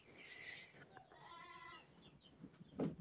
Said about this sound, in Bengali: তো ছাগলে প্রচুর ডাকাডাকি করতেছে।